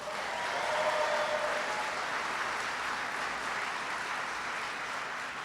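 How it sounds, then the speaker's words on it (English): Large audience applauding Governor Arnold Schwarzenegger at a clean-energy event, a broad steady roar of clapping swelling early and holding for several seconds. "Give him a big round of applause"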